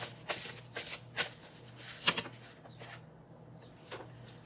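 Tarot cards being shuffled and dealt, close soft riffling and snapping bursts with a few separate card slaps, fairly quiet with no talking.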